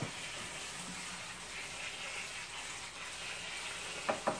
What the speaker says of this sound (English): Cold water over your noodles will stop the cooking